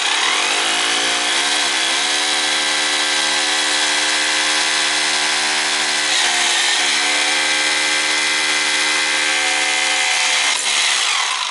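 A power drill bores holes for quarter-inch anchors, its motor whining loud and steady with a slight dip and recovery in pitch partway through, close up and without talk.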